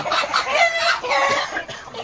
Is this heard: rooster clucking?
yes